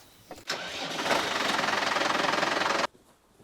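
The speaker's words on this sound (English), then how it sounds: "I hate this tractor, it's so rough." A rough tractor engine cranks and catches, then runs with a loud, steady knocking rumble for a couple of seconds before cutting off abruptly.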